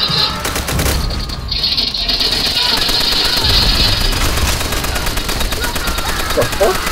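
Dense, rapid gunfire from a WWII-era Call of Duty co-op match, with loud shots and bursts crowding together for the whole stretch.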